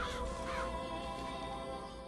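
Crows cawing in the video game BioShock Infinite, a couple of harsh caws near the start over a droning, tonal game ambience, fairly close and clear with no talk.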